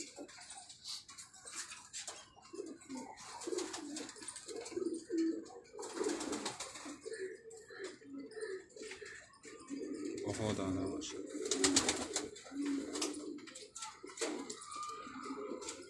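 Pigeons kept on a rooftop coo in low, repeated rolling calls, faint and somewhat distant, while someone talks over them.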